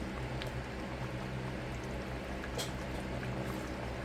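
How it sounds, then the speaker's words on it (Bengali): A covered pot of egg curry cooked with home-grown yuganī comes to a boil, giving a steady, dense bubbling and simmering hiss close by, with no talk over it. "ঢেকে দেবো ঢেকে একটা বলক দিয়ে নেব অনেক গরম"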